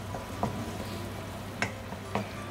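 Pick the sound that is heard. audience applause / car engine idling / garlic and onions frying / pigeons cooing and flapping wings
garlic and onions frying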